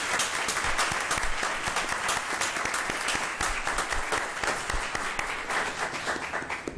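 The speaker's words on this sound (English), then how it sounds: "will everyone please give a round of applause for Ms." Audience at a public school board meeting applauding for a guest, a steady, even roar of many hands clapping in a room, sustained for about seven seconds without speech.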